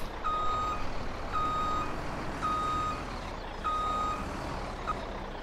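A truck in Farming Simulator 17 sounds steady reversing beeps, about one per second, over a constant low engine rumble with no voices.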